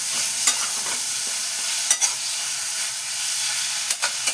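A paste of flat beans and yardlong beans fries with garlic and green chili, giving a steady, close hiss of sizzling punctuated by a few sharp stirring clicks and scrapes.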